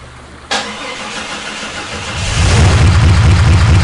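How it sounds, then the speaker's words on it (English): A car engine in a video game cranks at about half a second, catches, and settles into a rising mid-pitched idle that grows louder toward the end, with no voices. "It works! The car really started, but I'd better stop the engine for now."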